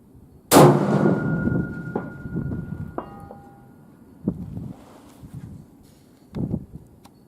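A suppressed Ruger American Predator rifle fires one supersonic 143 grain ELDX Hunter round outdoors, a sharp loud crack with a ringing metallic tail, followed by a few fainter clanks and rustles.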